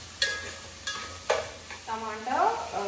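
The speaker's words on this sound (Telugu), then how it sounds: "టమాటా, పచ్చిమిర్చి అండ్ ఆనియన్ అన్నీ కొంచెం పోపు అయినాక, అంటే పోపు వేసినాక కొంచెం ఉడికినాక పసుపు వేసుకోండి" Tomato, green chili and onion frying as a tempering in a pan, a soft sizzle broken by a few sharp stirring knocks, then scraping and rising hiss toward the end.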